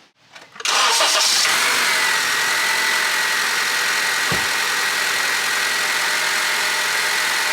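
A car engine cranks briefly and catches, then settles into a loud, steady idle that runs to the end with no talking.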